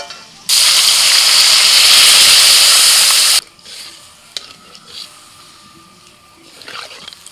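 Water is poured into a pan of potatoes that have been fried with salt and turmeric, bursting into a loud, hissing gush that lasts about three seconds and then drops to faint bubbling and occasional small clinks.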